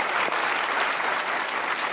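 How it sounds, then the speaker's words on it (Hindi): Dense, steady applause from a studio audience at a Pakistani comedy talk show, filling the whole stretch at even loudness with no clear voices on top. "तालियां बजा लो"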